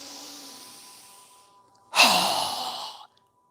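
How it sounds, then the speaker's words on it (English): A strong, forceful exhale during yoga breathing, a long breathy rush of air following a softer breath, close and alone. "strong exhale as we lower our arms and hands down"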